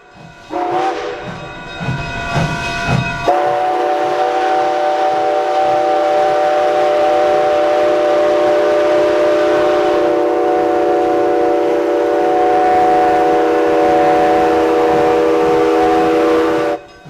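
A loud, sustained steam whistle from coal-fired steam locomotive 481 on the Silverton train blows close by after a few short chuffing bursts, its chord holding steady for many seconds before cutting off.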